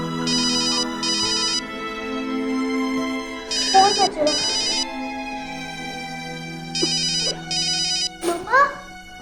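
A phone ringtone rings in repeated short bursts of electronic melody, with a voice and other speech breaking in between the rings.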